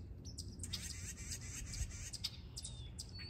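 A chickadee chirps in a series of quick, faint high calls outdoors among spring daffodils. The calls carry over a low background hum, and no one talks.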